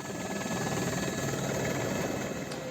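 A helicopter evacuating an injured person produces a steady, loud rotor drone with rapid chopping pulses and engine whine, continuous and close, with no voices.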